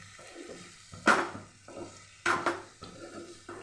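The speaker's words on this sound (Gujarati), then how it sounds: "હવે આપણે એને હલાવી લેવાનું" Cooked besan bhurji stirred in a pan, a spatula scraping in a slow repeated rhythm with a few sharper clinks against the metal over a faint sizzle.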